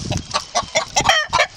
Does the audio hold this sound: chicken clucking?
yes